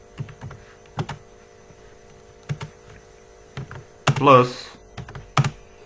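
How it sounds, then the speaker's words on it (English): Someone types on a computer keyboard while coding in Java, with short clusters of key clicks and one quick flurry of strokes over a steady mains hum. A single spoken word interrupts briefly. "we will just type the average price"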